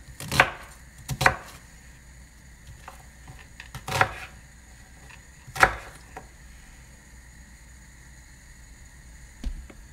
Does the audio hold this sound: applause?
no